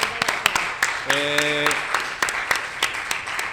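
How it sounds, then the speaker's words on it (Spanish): Audience at a talk on artificial intelligence in cinema applauding the guests, scattered sharp claps over a crowd wash, with a brief voice heard partway through. "Un aplauso para ellos, por favor."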